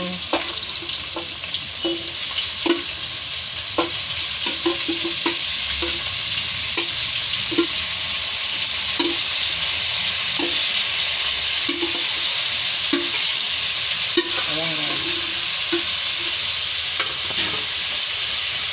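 Pork pieces seasoned with soy sauce and calamansi sizzle loudly in a pan for menudo, a steady bright frying hiss with intermittent stirring clacks of a utensil against the pan.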